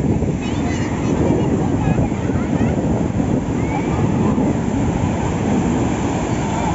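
Sea waves wash onto Puri beach in a loud, continuous rushing roar with heavy wind buffeting the microphone, while people's voices are faintly heard beneath the surf.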